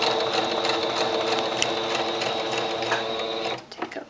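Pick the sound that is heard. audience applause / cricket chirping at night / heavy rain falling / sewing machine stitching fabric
sewing machine stitching fabric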